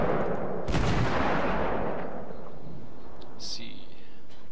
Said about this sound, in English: Just look at all these shells just rolling in.